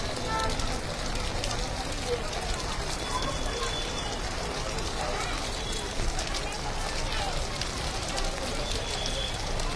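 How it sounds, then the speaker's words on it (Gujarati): Heavy monsoon rain pours down in Vadodara, a dense, steady roar of downpour that stays loud and unbroken from start to finish. "હાલ અત્યારે આપ જોઈ રહ્યા છો કે મન મૂકીને મેઘરાજા જે છે વરસી રહ્યા છે"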